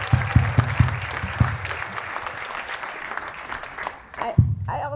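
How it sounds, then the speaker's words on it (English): Applause rings out at a commencement ceremony, a crowd clapping steadily for the graduating students with sharp claps standing out near the front, briefly dipping before swelling again. "Let's give them a round of applause."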